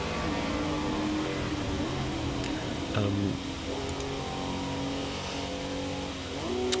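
A 1968 Herbie race car engine revs under engine braking on the Willow Springs track, with a continuous buzzing engine drone that shifts pitch, including a sharp rev change near the middle.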